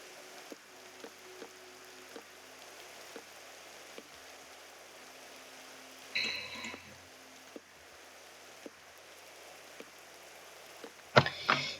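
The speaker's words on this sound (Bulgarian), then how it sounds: "Даже още си вали." Rain falling in the Minecraft video game, a steady faint patter with scattered small drip ticks and a couple of louder splashy bursts, no talking.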